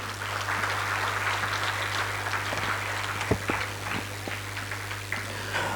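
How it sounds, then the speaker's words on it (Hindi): Audience clapping fills a hall at the 8th National HR Conclave, a steady, moderately distant patter of many hands sustained throughout, over a constant low electrical hum, with a few sharper claps standing out. "ताली बजाए प्लीज"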